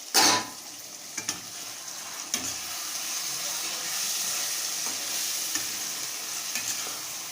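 Chicken curry stirred in a frying pan, with a steady broadband sizzle and scattered scraping knocks of the spoon against the pan throughout.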